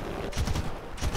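Aircraft guns fire in War Thunder, a few short rapid bursts of rattling gunfire pulsing through the clip with no talk.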